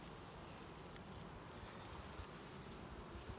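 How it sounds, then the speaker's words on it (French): Honeybees buzz around a beekeeper handling her hives, a faint, continuous, diffuse hum of many insects with no talking. "Tu as une relation extraordinaire avec tes abeilles."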